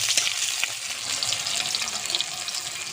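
Green chilies and chopped onions fry in a pan for a prawn and ridge gourd dish, a steady broadband sizzle that runs close and unbroken, with a few faint clinks and no voices.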